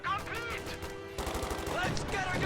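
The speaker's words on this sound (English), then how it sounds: "will get suppressed by MG42 fire" MG42 machine gun fire in a real-time strategy video game, heard as rapid bursts of gunfire mixed with other battle effects, partly under a voice commentating.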